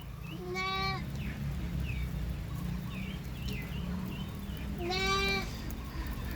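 Two bleats from white goats on a Thai goat farm stand out, one early and one near the end. They ring clear over a low, constant background rumble.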